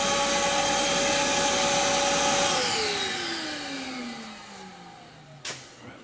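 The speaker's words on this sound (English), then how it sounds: "If we turn this on, the vacuum goes on, sound blaster goes on, the light goes on." A shop vacuum and sandblaster on a homemade rig run loud and steady with a broadband roar, then spin down with a falling whine after a few seconds, ending on a brief knock.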